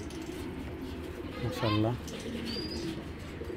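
Military breed pigeons, a pair of tall birds about six inches high, coo softly in a brief rolling burst, with someone speaking nearby over low room noise.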